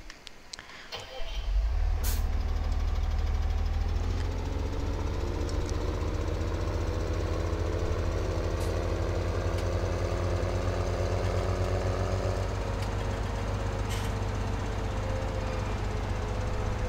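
Tractor engine in the farming video game Farming Simulator 17, starting up and settling into a loud, steady low drone with a rising whine, running continuously close up with occasional faint clicks.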